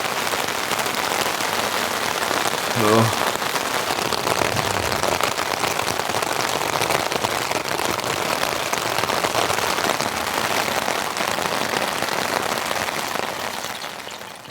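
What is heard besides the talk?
heavy rain on tent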